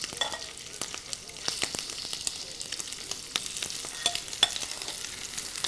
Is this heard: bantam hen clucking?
no